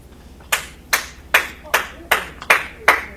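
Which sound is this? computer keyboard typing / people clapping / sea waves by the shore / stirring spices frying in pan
people clapping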